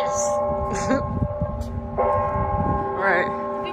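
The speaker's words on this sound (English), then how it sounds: "I hate that bell. It's creepy." A church bell tolls with a long ringing hum under a steady background rumble, and brief voices break in now and then.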